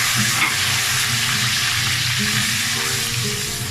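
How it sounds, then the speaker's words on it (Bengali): Ginger, garlic and onion pastes with spices frying in oil for chicken curry, a loud continuous sizzle with a low stirring rumble running beneath, close and unbroken. "সবগুলো আমি তেলে দিয়ে দিচ্ছি। নেড়ে দিচ্ছি"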